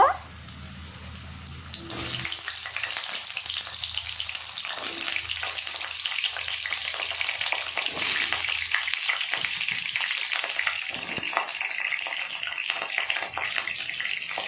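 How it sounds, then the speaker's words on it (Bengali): Pointed gourd frying in hot mustard oil in a wok, a steady close sizzle with bright crackling spatter that runs continuously and grows slightly busier toward the end. "কড়াতে সর্ষের তেল দিয়ে দেব তেল গরম হয়ে গেছে পটলগুলো হালকা ভেজে নেব"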